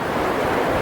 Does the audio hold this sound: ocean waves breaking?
yes